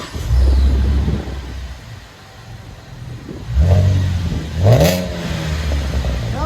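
A 2011 Chevy Camaro 3.6L V6 with dual exhaust, X-pipe and Borla S-Type mufflers idles with a deep rumble, then revs twice in quick blips, loud and close.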